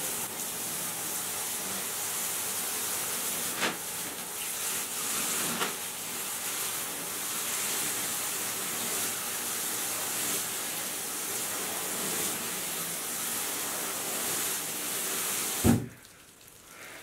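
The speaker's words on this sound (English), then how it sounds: "we are going to add water." Water is poured onto a dry mix of Eco Earth and reptile bark in an enclosure, making a soft, steady hissing pour for about fifteen seconds that ends with a brief thump.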